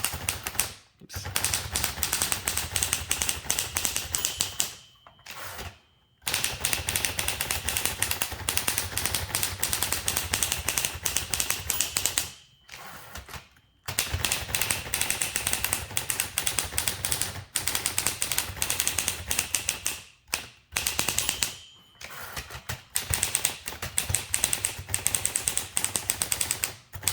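A 1936 Klein-Urania portable typewriter clacks in dense, rapid bursts of keystrokes, close and crisp, broken by several short pauses and carriage-return gaps over nearly half a minute.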